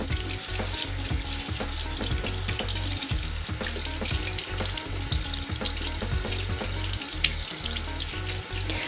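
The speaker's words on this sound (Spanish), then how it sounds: "Le iremos enjuagando igualmente con agua fría." Cold tap water runs steadily over a makeup brush being rinsed in a sink, a continuous close splashing hiss with irregular knocks and taps from handling throughout.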